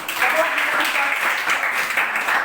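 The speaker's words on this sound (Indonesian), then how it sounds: "Tepuk tangan sama si Elran" Classroom applause for a student, a group of hands clapping together in a steady, moderately loud burst lasting a couple of seconds, with no one speaking over it.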